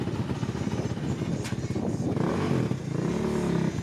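A 250 dirt bike engine running on race gas at a state fair motocross track, a loud, steady idle with rhythmic firing pulses and some revving, heard close and alone with no talk over it.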